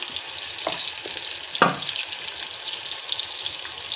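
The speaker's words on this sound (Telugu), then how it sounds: "ఆయిల్ హీట్ అయిన తర్వాత టమాటో క్యారెట్ వేసుకోవాలి" Tomato and carrot pieces frying in hot oil while Maggi noodles are being made, a steady close sizzle with a couple of brief clinks from the pan, alone without talk.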